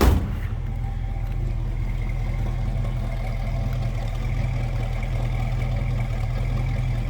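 A 1966 Ford Mustang Fastback with a 289 V8 idles with a steady, low exhaust rumble heard from behind the car, even and continuous throughout.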